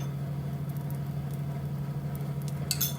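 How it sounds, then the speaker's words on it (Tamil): Beaten egg poured over dosa batter cooking on an oiled griddle for a kari dosa, a soft steady sizzle over a low hum, with a few brief crackles near the end and no talking. "இப்போ கொஞ்சமா முட்டையும் தோசையும் வெந்து வரட்டும்."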